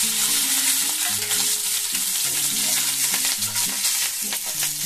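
Asafoetida and chopped green chillies fry in hot oil with a bay leaf, giving a loud, dense, continuous sizzle that holds steady throughout over a faint melodic background tune.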